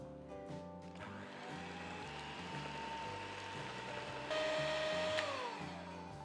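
An electric beater whirs through cake batter with vanilla essence and salt for cake rusk, a steady motor drone with a rhythmic churning pulse, rising in pitch and loudness near the end before easing off.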